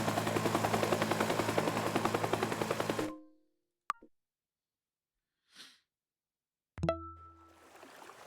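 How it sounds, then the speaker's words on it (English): In the video game Teardown, a helicopter's rotor thumps in a loud, steady rapid pulse for about three seconds before cutting out, followed by silence and a few scattered brief game sounds. "So you've got to do the whole mission with the sound of a chopper."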